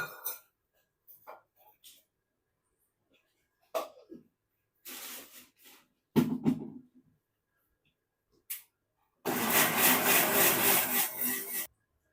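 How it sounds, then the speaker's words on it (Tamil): A kitchen mixer grinder blending soaked poha with banana in its jar, one loud steady whirring burst of about two seconds near the end, after scattered short clinks, rubbing noises and brief voices. "ஊற வச்ச அவுலையும் நம்ம வாழைப்பழத்தையும் போட்டு நல்லா மிக்சியில் அடிச்சிட்டோம்."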